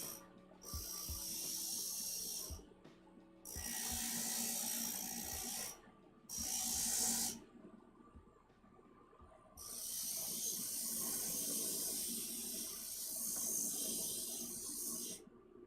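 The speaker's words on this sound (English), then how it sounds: "So I tend to hold my pieces up when I'm grinding." A stained glass grinder shapes small glass pieces for a moth: loud bursts of high whining grit-on-glass grinding start and stop in separate runs, the longest at the end, with quiet motor hum and faint clicks in between.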